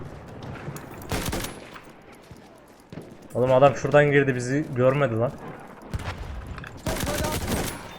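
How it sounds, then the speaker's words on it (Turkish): Gunfire bursts in the World War I shooter Battlefield 1, with broadband volleys early and late in the clip and someone talking in between. "Solda bir silah sesi sıkıyorlar. Duyuyorum."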